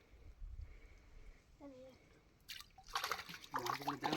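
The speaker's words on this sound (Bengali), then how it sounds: "জল এরকম থাকবে না, আর একটু ছেঁচে দিবি, এরকম ছেঁচে দে আর একটু।" Water is bailed out of a village pond while fishing, with splashy bursts of thrown water in the second half of the clip over quiet outdoor background and nearby voices.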